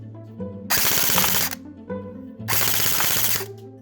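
Airsoft guns, an Umarex H&K MP5 Competition and an Elite Avalon on 11.1 V LiPo batteries, fire BBs on full auto. There are two loud rapid bursts about a second long each, with a faint motor whir between them, close up and without speech.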